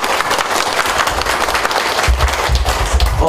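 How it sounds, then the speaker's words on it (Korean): An audience at a lecture claps, a dense, steady wash of many hands applauding together, close and fairly loud. "박수 치겠습니다."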